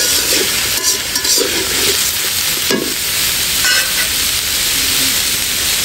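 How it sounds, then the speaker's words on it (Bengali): Chopped onion and snake gourd frying together in a pan for a snake gourd curry with small puti fish, a steady close sizzle and hiss with occasional stirring scrapes, no talking. "পেঁয়াজ একসাথে ভাজা।"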